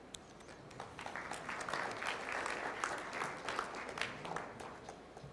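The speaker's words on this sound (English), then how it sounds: "And please give applause to our speakers." Faint, distant applause from a conference audience welcoming speakers on a panel about Ukrainian entrepreneurs, a continuous patter of many hands that swells slightly in the middle.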